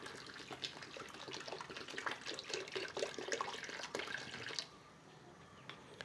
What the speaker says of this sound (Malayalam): ഒരു ലിറ്റർ വിനാഗിരി ഞാൻ ഇതിനകത്തേക്ക് ഒഴിച്ചു